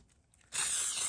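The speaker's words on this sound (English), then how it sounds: "Just going to spray my muffin tin." After a brief quiet moment, a steady close-up aerosol cooking spray hisses loudly and continuously onto a muffin tin.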